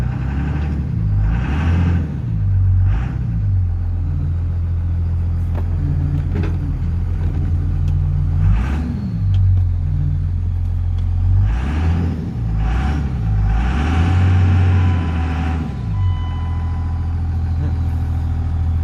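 A 1999 24-valve Cummins diesel pickup, run after sitting for years, rumbles and labors as it drives, its low engine note rising and falling with repeated throttle surges over about nineteen seconds, loud and close.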